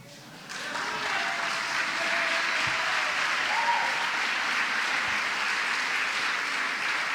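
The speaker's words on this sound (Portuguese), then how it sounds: "eu vou aplaudir o seu ânimo" Sustained audience applause during a church sermon, many hands clapping evenly for several seconds, a broad steady wash of sound with no voices on top.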